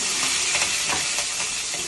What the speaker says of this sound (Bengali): এই মাছ ভাজার তেলের মধ্যে দিয়ে দেবো কিছু চেরা কাঁচা লঙ্কা